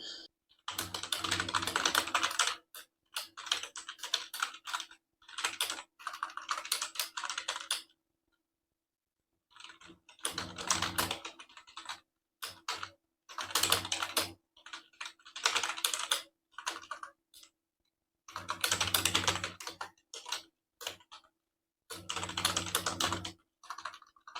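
Touch typing on a computer keyboard, with rapid bursts of key clicks separated by short pauses, close and fairly loud, with no voices.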